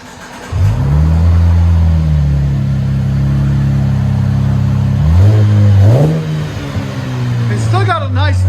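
A 2012 Cadillac CTS with a 3.6L V6 and Vibrant quiet flow exhaust revs up loudly and holds a deep, steady drone, drops back, then blips again twice before easing toward idle, close by.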